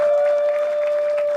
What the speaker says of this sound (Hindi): जोरदार तालियां यार शिवम वर्मा के लिए